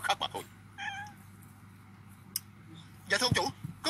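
A cat meows in short bursts near the start, then gives a louder, longer meow toward the end, with a voice speaking in between over a steady low hum.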